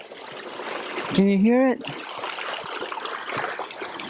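A fast-running brook in a December forest near an off-grid homestead, heard as a steady wash of rushing water throughout, with a person speaking briefly over it.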